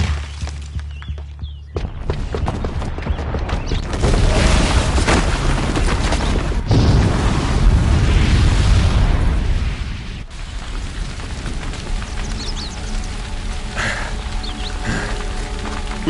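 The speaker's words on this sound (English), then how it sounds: "the booby trap on the bomb downstairs is gonna get set off" A booby-trapped bomb going off in Horizon Zero Dawn, a loud, dense, sustained blast roar with crumbling debris that rumbles on for several seconds before easing into lower background noise.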